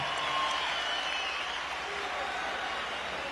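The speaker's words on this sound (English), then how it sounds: "how about a big round of applause for the effort out of these two warriors in the ring" Crowd applause and cheering in a Las Vegas boxing arena after the Amir Khan versus Marcos Maidana fight, a sustained distant roar of clapping mixed with a ring announcer's voice.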